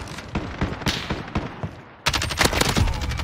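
Rapid gunfire from a Kilo rifle in a video game, sharp bursts of shots in quick succession, a sparser volley at first, then a denser, louder stretch of fire.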